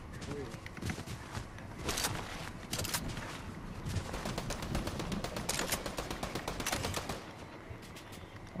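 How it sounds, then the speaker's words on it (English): Rapid gunshot bursts in Fortnite come in clusters across the stretch, fairly faint and distant-sounding, mixed with footsteps and movement while players chat over them. "Why are you shooting my shit, bro?"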